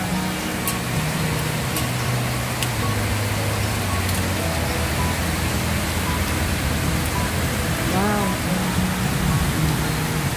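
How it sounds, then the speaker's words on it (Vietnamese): Very heavy rain pouring in Hanoi, a dense, steady hiss throughout, with occasional faint clicks and a low rumble underneath. "Chưa từng thấy mưa to như thế này."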